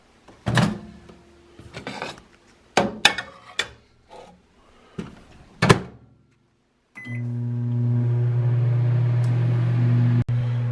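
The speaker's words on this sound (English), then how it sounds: "So throw these in the microwave for about 2 minutes and they're ready to go." A few sharp knocks and clunks, then a steady loud hum of a microwave oven starts and drones on without change close by.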